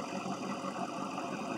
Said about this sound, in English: I got it running, kind of cooling off.